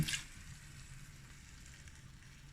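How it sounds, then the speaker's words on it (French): A pan of lamb stew with potatoes and vegetables hisses in a quiet, even sizzle after a splash of water with leftover parsley goes in, a brief brighter burst at the start fading to a low steady simmer. "je vais rajouter un petit fond d'eau avec mon reste de persil"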